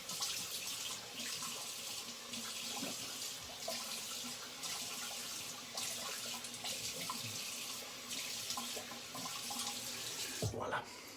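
A bathroom tap runs steadily in a sink for cold rinsing after a wet shave, a continuous close splashing wash with small clinks and shifts, ending in a brief louder disturbance near the end.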